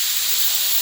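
Pressure cooker whistle letting out a loud, steady hiss of steam while cooking stuffed brinjal, a dense and continuous blast close by, with no voices.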